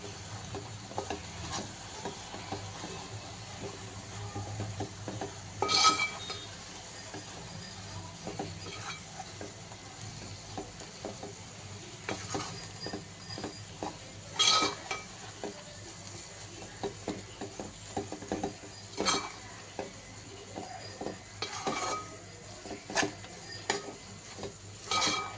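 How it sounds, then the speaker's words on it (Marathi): Mashed pav bhaji vegetables being stirred and mixed in a pan for street-style smoky pav bhaji, with soft scraping, occasional spoon taps against the pan and faint sizzling, steady and close with no talk. "आता जी आपण ही मॅश केलेली भाजी आहे ही याच्यामध्ये घालायची आणि हे पूर्ण मिक्स करायचं"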